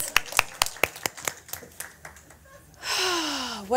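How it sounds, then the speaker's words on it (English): Sparse hand claps from a conference audience greeting a volunteer, a handful of sharp separate claps that thin out before a brief burst of noise and a tone at the end. "Ryan Eller, give him a round of applause"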